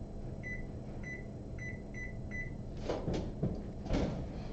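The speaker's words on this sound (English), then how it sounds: "I need to preheat my oven because I am going to bake." A kitchen oven being set to preheat to 375 gives a series of five short, evenly spaced electronic beeps, followed by a few clunks and knocks of handling nearby.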